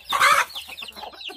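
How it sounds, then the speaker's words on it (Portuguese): Hens and chicks on a rural smallholding cluck loudly at first, then keep up a busy patter of softer clucks and chirps close to the microphone. "criar pinto, galinha."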